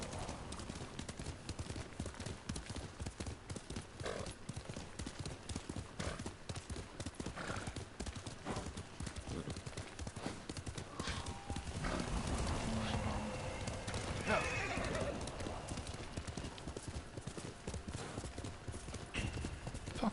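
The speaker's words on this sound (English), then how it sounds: "You're a good horse, Captain." Horse hooves pound at a rhythmic clip-clop gallop in the samurai game Ghost of Tsushima, close and continuous, with a brief whinny and some ambient birds, plus a voice speaking intermittently.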